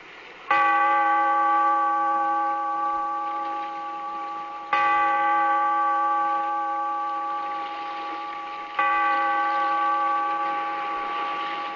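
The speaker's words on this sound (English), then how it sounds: "Bellkeeper, toll the bell, so that all may know we are gathered again in the Weird Circle." A tolling bell in an old radio drama strikes three times at slow even intervals, each ringing stroke loud and resonant before decaying under the next.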